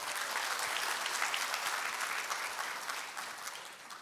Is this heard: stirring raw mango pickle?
no